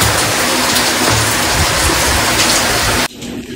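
Steady heavy rain pours down in rainy-season weather, a loud continuous hiss of drops hitting surfaces up close, dropping abruptly to a quieter patter near the end.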